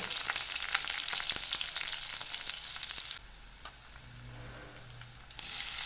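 Three halved green chillies frying in hot oil for dry okra masala, a steady loud sizzle that drops sharply partway through, then rises again near the end, with no voices.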